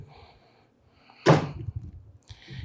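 A single sharp wooden bang of a drawer sliding shut in a resort hotel room, fairly close, followed by lighter rattling and faint room noise.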